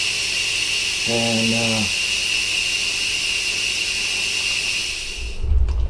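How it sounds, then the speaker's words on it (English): A pressure cooker vents steam in a steady, loud hiss that runs for most of the clip. A brief spoken word cuts in near the start, and the hiss drops away at the very end. "That steam comes out, and it comes out hot. So you just let it go until it stops hissing"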